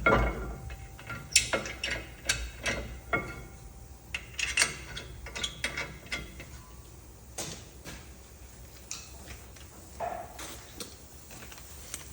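A hand ratchet clicks in quick uneven runs while brake bracket bolts are tightened on a 2015-2019 Ford Transit rear axle. Crisp metallic ticks come in short bursts with pauses, close and fairly quiet.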